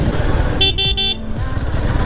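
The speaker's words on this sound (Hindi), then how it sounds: "इसका हॉर्न की आवाज़ ना सुनाई नहीं देती है" A KTM motorcycle horn gives a short, clear honk over steady road and engine rumble, loud and close, recorded while riding.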